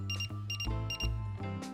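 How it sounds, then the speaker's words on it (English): A Vicks No Touch 3-in-1 thermometer (VNT200) beeps in short repeated tones, a few evenly spaced pulses, clear and close against a steady background hum. "The thermometer will sound 1 long beep for a normal temperature"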